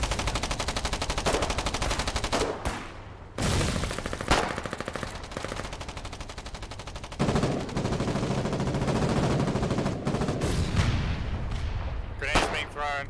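Rapid machine-gun and rifle fire rattles through a trench battle in the war game Foxhole, loud repeated bursts with heavier blasts mixed in, a voice talking underneath at times.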